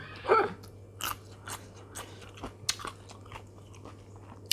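Crunchy luk liang nuts are bitten and chewed up close, a loud first crunch followed by a series of smaller crisp chewing crackles spaced through the quiet.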